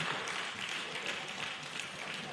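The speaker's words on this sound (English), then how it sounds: "a round of applause for our chairman of the day" Audience at a Lagos medical association's annual general meeting and scientific conference applauds the chairman of the day, a steady, dense wash of many hands clapping at moderate distance throughout.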